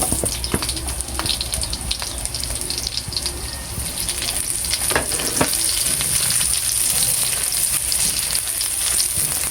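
Onions frying and sizzling in a pan, a steady crackling hiss that runs throughout with faint clinks and stirring, no talking.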